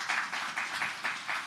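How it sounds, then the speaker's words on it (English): Scattered hand claps at a judges' swearing-in ceremony, a few distinct claps repeating at a steady rhythm, faint and somewhat distant, with no talking. "you can give yourselves a round of applause"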